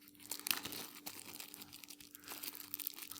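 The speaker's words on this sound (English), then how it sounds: "Some plastic bags." Thin plastic seed bags from a garden supply parcel crinkle and rustle softly in short, scattered handling sounds, close by and quiet, with no voices.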